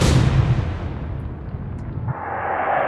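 Naval shells strike an enemy ship in the naval warfare video game Atlantic Fleet, a loud booming explosive burst at the start that rolls off into a low rumble, followed by a steady wash of sea ambience.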